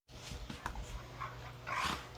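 Dogs whimper softly indoors in short, faint, high whines, with quiet breathing and shuffling between them.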